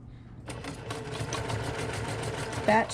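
A sewing machine stitches a tote bag seam, starting after a brief quiet moment and then running in a steady close whir of rapid needle strokes, with a short louder bump near the end and a voice speaking over it.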